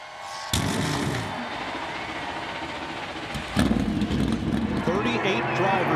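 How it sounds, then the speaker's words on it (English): NASCAR Cup Series stock car engines fire up at Texas Motor Speedway, a steady roar that swells abruptly and holds, with a sharper surge of revving partway through. "Drivers, start your engines."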